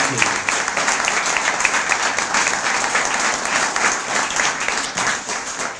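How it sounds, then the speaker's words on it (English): Sustained applause from an audience at the 2022 Star Teacher-Student Awards ceremony, honoring teachers and students of the class of 2022; steady, dense clapping fills the whole stretch at a moderate, even level. "So let's have one final round of applause for our STAR teachers and STAR students in the class of 2022."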